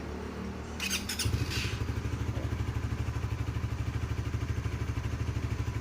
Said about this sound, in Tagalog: yung tunog ng engine niya is parang helicopter